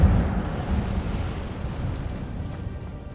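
A fiery Incendio spell goes off in Hogwarts Legacy, a loud, deep whoosh and boom that swells at once and then rolls on as a dense, crackling roar that slowly fades, with no one talking.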